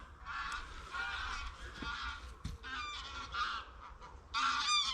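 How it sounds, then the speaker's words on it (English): Several geese flying overhead honk repeatedly at a distance, calls overlapping in irregular bursts against quiet outdoor background. "I thought geese were meant to fly south."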